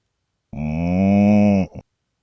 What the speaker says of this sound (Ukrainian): Так, корову,